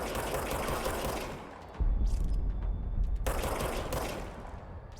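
Gunfire in the video game Control, a rapid mechanical rattle of automatic shots that grows heavier halfway through, close and steady, with no voices.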